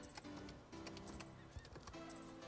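Rhythmic clip-clop of a Marwari horse's hooves in the video game Star Stable Online, punctuated by a neigh, close and clear with only faint background.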